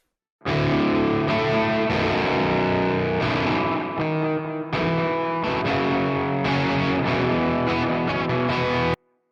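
Distorted heavy metal electric guitar played through a Quad Cortex with reverb and delay, thick sustained chords ringing loud and close, with a brief dip midway before the riff resumes and then cuts off.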